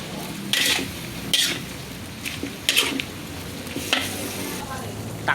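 A spoon scrapes and stirs chopsuey in a cooking pan, giving about five evenly spaced, brisk scraping strokes roughly a second apart over a soft, steady sizzle, close by.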